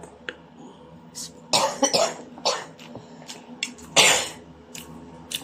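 A person coughs close by in several harsh bursts: a quick cluster of coughs, a single cough shortly after, then one more strong burst later, with quiet gaps between them and no speech.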